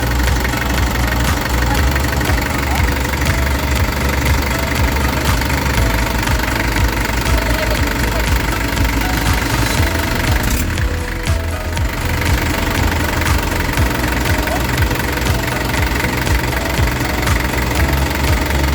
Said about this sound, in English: Once the engine is warmed up